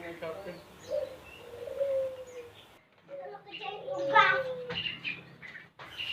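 A green leafbird, or cucak ijo, that has been soaked with a water spray bottle gives short chirps and whistled calls in bursts, mixed in with a person talking nearby.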